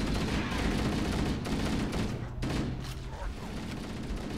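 Gunfire in Halo co-op play, with dense, rapid bursts of shooting and explosions pounding almost continuously at close range and barely pausing.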